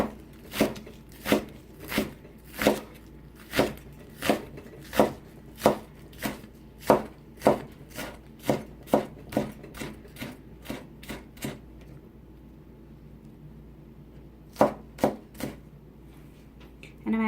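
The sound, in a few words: chopping green onions with a knife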